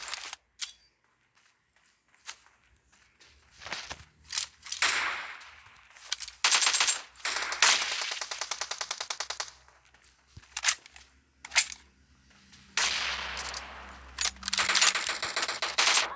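Gunfire from PUBG Mobile, with bursts of rapid automatic shots alternating with single cracks and short pauses, loud and close throughout.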